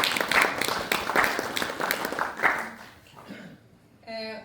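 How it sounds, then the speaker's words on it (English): An audience at a Tidy Towns chairman's report in Westport claps in a burst of fairly close, uneven applause that thins out and fades after about three seconds, followed by a brief bit of other sound. "So, big round of applause."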